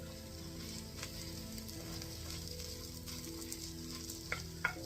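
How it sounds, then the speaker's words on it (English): Ground spices sizzling in hot oil for a lamb shank curry, a soft, steady crackling fry throughout, with faint stirring scrapes and a couple of sharper clinks near the end, no talking. "You want them to hit the hot oil straight away, release all that lovely flavour."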